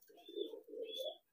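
A pigeon coos twice, soft low calls in two drawn-out phrases, faint and close, with no talking.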